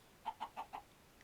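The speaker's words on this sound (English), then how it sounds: "you can just see it creates a ton of chickens" Chickens clucking in the Minecraft video game, four short evenly spaced clucks in quick succession followed by quiet, with no talk over them.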